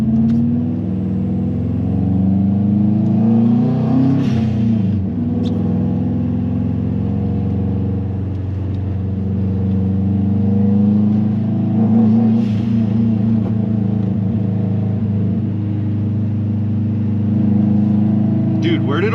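Stage 2 Subaru WRX engine in a morning street race against a K4, a steady loud drone that swells slightly in waves, with people talking over it.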